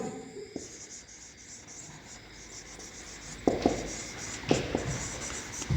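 Pen writing on paper while an English exam answer is filled in, soft scratchy strokes with a few sharper taps, close and fairly quiet, no talking.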